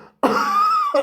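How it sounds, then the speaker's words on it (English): A person gives a single short, voiced cough in a quiet room during a phonetics lesson, a sharp onset followed by a brief tonal tail. "When you cough like this,"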